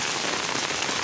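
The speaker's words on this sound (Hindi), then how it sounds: "अब आप अंदाज़ा लगा सकते हैं कितनी बारिश हुई है" Heavy rain pours down in a dense, steady hiss of countless drops striking surfaces close by, continuous and loud with no voices.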